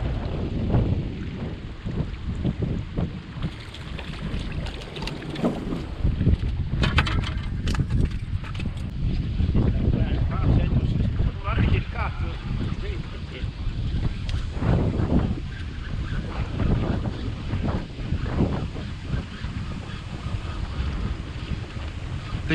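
Strong wind buffets the microphone while out on a boat, a continuous loud roaring rush with gusts that swell and fade, and water noise underneath, with no talking.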